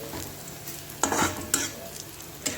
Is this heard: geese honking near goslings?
no